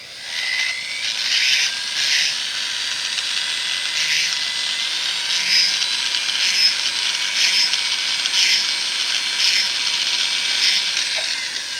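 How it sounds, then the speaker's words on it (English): A Dremel or flex-shaft rotary tool deburring the sharp edge of a silver coin ring made from a Morgan silver dollar, producing a steady high whine with rhythmic pulsing as the bit presses on, close and continuous without talk. "take your Dremel or your flex shaft and take that edge off"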